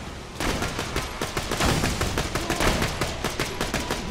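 Dense, continuous rapid gunfire from a first-person shooter, Borderlands: The Pre-Sequel, with loud overlapping shots and bursts filling the whole stretch without a break.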